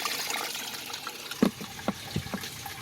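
A small standard aquarium filter in a greenhouse lets water trickle and drip, with a soft, steady trickle and a few louder drips, close and quiet.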